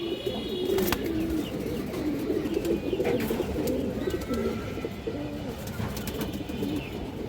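Pigeons, including a black-necked pair, cooing in a loft: repeated throaty coos overlap from several birds close by, with faint chirps and rustling against a steady murmur of background noise.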